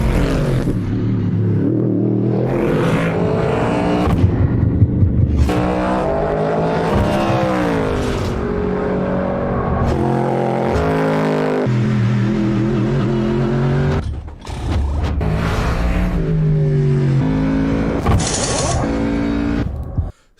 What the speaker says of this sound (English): So that deeper baritone noise, I'm guessing, comes from one, the cams, two, the way the exhaust is designed, but also the added displacement